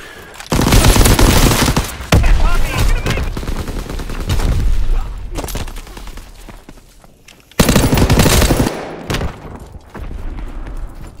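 Automatic machine-gun fire in the World War II shooter Call of Duty WW2, loud sustained bursts with heavy booming blasts, a short break near the middle before another intense volley, no talk.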